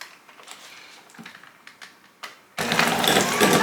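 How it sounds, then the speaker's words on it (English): A hand mixer blends pumpkin puree with cream cheese, switching on abruptly after some small clicks and taps into a loud, steady, close whir with a gritty buzz. "We're going to blend these together using a hand mixer."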